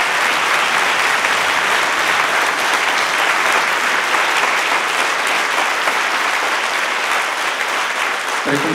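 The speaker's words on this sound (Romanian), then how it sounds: "aplauze." An audience claps at a vocal-symphonic concert in Deva. The applause is loud and continuous for several seconds and holds steady throughout, with no voices on top.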